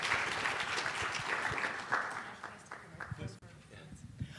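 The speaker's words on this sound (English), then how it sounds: "Maybe just a round of applause for these guys" A room of conference attendees applauds a panel, a moderate, somewhat thin patter of clapping that gradually tapers off while a person speaks over it.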